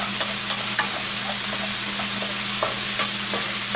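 Garlic for shrimp gambas fries in a pan with a constant close, loud sizzle, dotted with small pops and crackles throughout and no voices over it.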